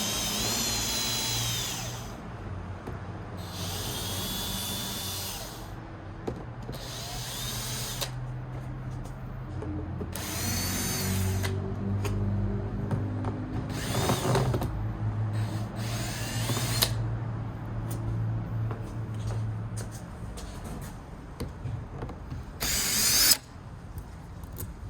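A power drill unscrews screws from an old iMac during a teardown, whirring in repeated short bursts separated by pauses, with ratcheting clicks and close, fairly loud motor whine.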